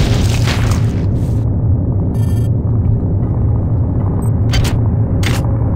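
A toxic grub pod egg being destroyed in the video game System Shock 2, a loud low rumbling burst lasting several seconds, broken by a few sharp crackling pops.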